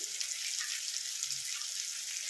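Steady bright sizzle of water hitting a pan of frying spice masala sweetened with sugar for a chicken jhol, a continuous close hiss with no voices.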